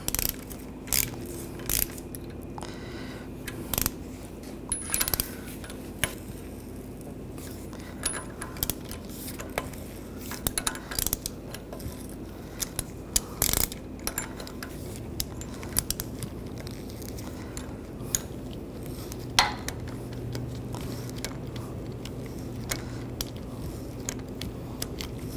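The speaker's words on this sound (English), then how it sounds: "we're just going to hold the hex from moving as we loosen up the nut" A strut mount nut is loosened on a 2009-2017 Volkswagen Tiguan front strut while a 7mm hex key holds the shaft, giving a long run of sharp ratcheting clicks and metal creaks, close and irregular, with no speech.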